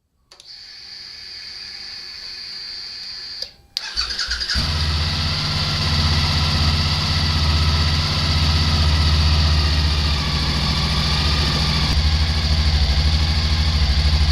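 A Suzuki V-Strom 1000 motorcycle engine cranks and catches, then settles into a steady, throaty idle close by, with a faint high whine audible before it starts.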